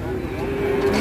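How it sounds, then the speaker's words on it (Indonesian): Angry cattle, several of them, give a low, drawn-out moo that sits over a busy, rumbling background for about a second. "Banyak sapi ngamuk sini"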